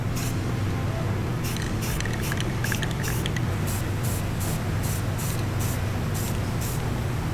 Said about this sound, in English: As we were spraying it, spray was going up and over